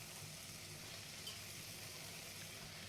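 Fenugreek leaves (methi) fry in oil with red chilli powder, giving a steady, quiet, even sizzle with no talking.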